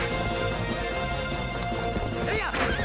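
A horse's hooves clip-clop in a steady rhythm in Zelda: Twilight Princess, mixed with crashing game effects and a brief whinny-like sweep near the end. Everything sounds loud and close.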